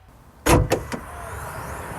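Trunk of a 2013 Scion FR-S sports car being opened, a sharp close clunk of the latch releasing followed by two quicker mechanical knocks, then a low steady background hum.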